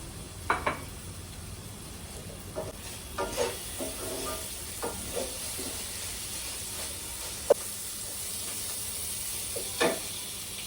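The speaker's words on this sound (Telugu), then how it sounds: "ఉల్లిపాయ మాడకుండా మధ్య మధ్యలో కలిపి ఇలా వేయించుకోవాలండి" Onions fry in a pan for prawn biryani under a soft, steady sizzle, broken by scattered scraping stirs and light clinks. No one speaks.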